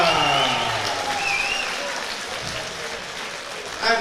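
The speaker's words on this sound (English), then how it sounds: "And please keep the applause going." Applause from the crowd at a Scotland versus England amateur boxing show fills the hall, steady and fairly loud, with an announcer's voice speaking over it.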